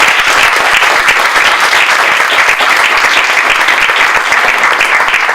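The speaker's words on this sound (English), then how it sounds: "so we applaud you." Sustained audience applause fills the whole stretch, dense and steady clapping from a large crowd honoring women who rode the buses in the 1950s and 60s, loud and even throughout with no pauses.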